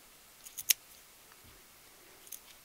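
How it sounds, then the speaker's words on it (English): Scissors cut through faux fur for a frame, giving a few faint, quick snips close by, bunched at the start and again near the end, in an otherwise quiet room. "when you cut fur, you want to cut through the back"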